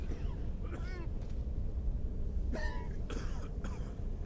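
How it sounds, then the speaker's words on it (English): Several short coughs from more than one voice come in bursts over a steady low rumbling ambience, fairly close, in the video game Skyrim. "Don't understand why they're coughing so much."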